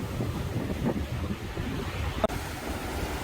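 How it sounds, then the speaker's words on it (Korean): Waves break against a rocky shore by a breakwater, a constant rough wash of surf under gusting wind buffeting the microphone, with one sharp knock midway. "파도가 좀 생각보다 높게 치고 있습니다"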